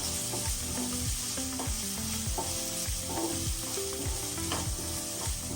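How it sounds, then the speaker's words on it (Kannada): Masala paste of onion and garlic for mixed vegetable kurma fries in a pan, a loud continuous sizzle with regular scraping stirs, no talking. "ಈ ತರ ಪೇಸ್ಟ್ ಮಾಡ್ಕೊಂಡು ಹಾಕಿ ಸ್ವಲ್ಪ ಹಸಿ ಸ್ಮೆಲ್ ಹೋಗೋ ತನಕ ಹುರ್ಕೋಬೇಕು."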